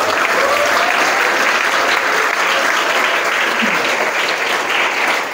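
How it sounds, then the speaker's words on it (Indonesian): Applause from hundreds of students and teachers at the Dadali Islamic boarding school, a dense, steady roar of clapping filling the whole stretch at close, even loudness. "Tepuk tangan untuk kita semua"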